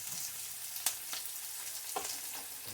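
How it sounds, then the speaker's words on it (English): Onions sauteing in avocado oil in a pan, a steady bright sizzle with a few sharp clicks as a wooden spoon stirs them, close and alone. "Let's saute those onions on down."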